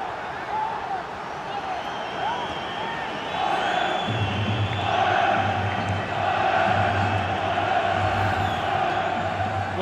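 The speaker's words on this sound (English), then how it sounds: "The crowd have gone crazy, and quite rightly so." A stadium crowd in FIFA 19 roars and cheers after a goal in an Ajax versus Real Madrid match, a broad sustained swell that grows louder partway through, with commentary-style voices mixed in.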